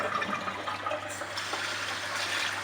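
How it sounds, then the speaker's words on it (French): Glutinous rice for a mango sticky rice dessert is rinsed in clear water, giving a continuous rushing, splashing wash of water, fairly close and steady with no talk. "il faut le rincer à l'eau claire plusieurs fois"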